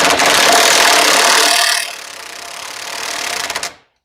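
A power tool whirs loudly as it drives a bolt into a Chevrolet Aveo, a steady high motor whine that drops in pitch partway through and then cuts off short of full snug.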